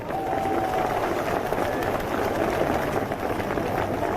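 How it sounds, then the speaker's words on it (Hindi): Sustained applause from a crowd at a BSP political rally in Rewa, Madhya Pradesh, cheering the singers; dense, steady clapping continuing throughout without a break. "एक बार जोरदार तालियां"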